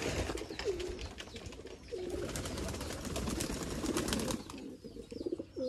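Pigeons cooing near high-flyer pigeon lofts, with soft repeated coos rising through a steady busy background and a few wing flaps, continuing throughout without speech.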